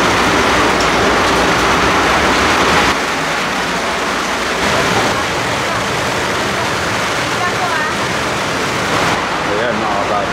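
Heavy storm rain pours steadily as a dense, loud, continuous wash that stays even throughout, with no talking heard.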